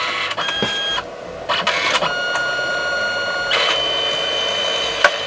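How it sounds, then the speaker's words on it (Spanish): A home photo printer printing a photograph, with steady mechanical whirring and rhythmic feed clicks and shifts in motor pitch, close and continuous with no talk. "Y ahí ya comienza a imprimir la fotografía."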